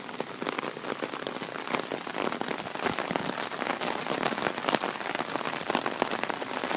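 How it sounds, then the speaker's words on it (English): Steady rain falls during a rainy season, a dense close patter of drops striking a surface, continuous and fairly loud with no voices over it. "Do you like this rainy season?"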